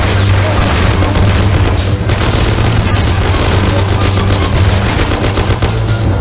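Dense, loud automatic gunfire and booms fill a video game shootout in Mafia, continuous bursts of machine-gun fire with no pauses throughout.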